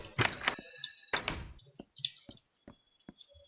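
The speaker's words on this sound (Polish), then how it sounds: "Trzeba poprawić trochę drzwi, bo tak głupio wyglądały." Several blocky thunks and taps as a door is placed and adjusted in a multiplayer Minecraft game, with short clicks and knocks in an uneven sequence and quiet gaps between them.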